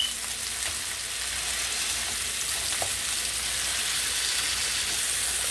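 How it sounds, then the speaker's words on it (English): Burger patties sizzle steadily in a hot frying pan, a continuous bright crackle with occasional pops, close up and without talk. "you could pre-press them before you put them in the frying pan"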